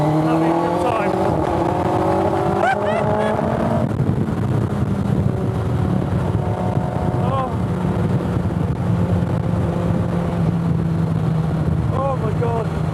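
A Sport 200 race car powered by a Suzuki Hayabusa Gen 2 engine drives on a windy day, its engine note rising and falling through gear changes, loud and close, with a voice talking over the engine.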